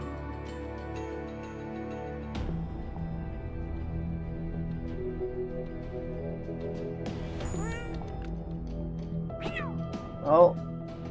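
A cat meows several times in the Sneaky Rat video game, with short rising and falling calls over background game music and a louder cry near the end.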